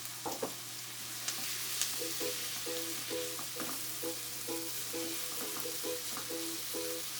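Pork and sliced garlic sizzle quietly in a hot pan while a utensil stirs and scrapes them in a soft, irregular rhythm. The steady hiss continues alone throughout.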